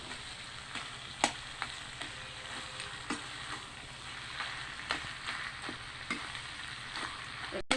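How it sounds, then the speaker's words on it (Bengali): A spoon stirs rice flour into coconut milk in a pan of banana flower curry, with soft scraping taps recurring over a faint, steady simmer, quiet and close. "এখন আমি একটু ঘুটে গেটে দেবো, দিয়ে ওই চালের গুঁড়ো নারকেলের দুধের মধ্যে মিশিয়ে দিয়ে দেবো।"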